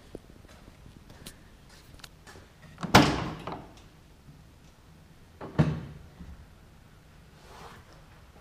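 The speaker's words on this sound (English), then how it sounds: "Nice slow drop rear tailgate." The slow-drop rear tailgate of a 2014 Chevrolet Silverado 1500 4x4 pickup gives a heavy clunk, then a second softer thud a few seconds later, amid quiet outdoor background.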